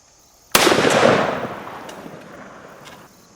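A single loud shotgun blast firing Long Beard XR turkey loads at a 60-yard target outdoors, with a sharp crack followed by a long rolling echo that fades over about two and a half seconds.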